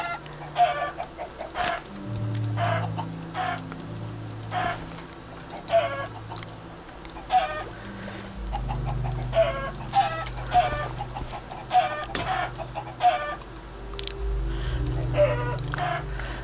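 Chickens in Minecraft (TerraFirmaCraft) cluck repeatedly in short bursts over a steady low droning background, with occasional louder squawks scattered throughout.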